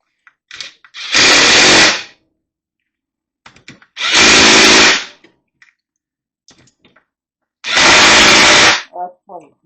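A power tool tightens bolts on a Kawasaki KZ400 motorcycle in three loud, close bursts of about a second each, separated by quiet gaps with small clicks and handling noises.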